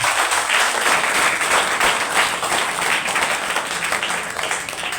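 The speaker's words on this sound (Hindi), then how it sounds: "सभी के सभी कैंडिडेट्स लोगों के लिए एक बार जोरदार ताली बजाएंगे।" Loud, sustained applause from an audience for the candidates at the conclusion of a school debate competition at DA Public School Ratanpur, a dense, steady wash of clapping that fills the whole stretch without a break.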